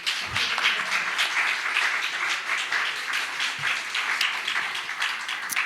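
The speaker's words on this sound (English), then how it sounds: "You can clap now." An audience at a liberty-themed speaking event bursts into steady applause, moderately distant and even throughout, with a couple of low thumps near the start and no voices.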